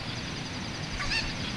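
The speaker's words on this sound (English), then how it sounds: "the chicken's gonna keep clucking all day long" A chicken in The Legend of Zelda: Ocarina of Time gives a brief squawking cluck partway through, over a steady background hum with no talking.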